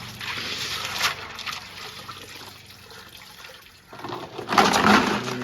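Five-faced rudraksha beads being washed and rinsed in water: close sloshing and trickling with a louder splashing burst near the end, no talking.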